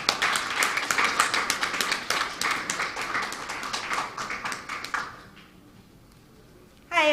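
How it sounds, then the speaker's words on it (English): An audience at the launch of an education programme claps in a steady burst of applause for about five seconds, which then stops sharply and leaves near silence. "Let's give her a big round of applause."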